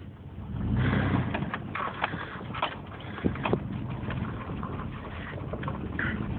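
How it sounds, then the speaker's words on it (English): A 1998 Chevy Blazer engine idles steadily close by, a low continuous rumble with a few clicks and knocks over it and no talking. "But she idles fine."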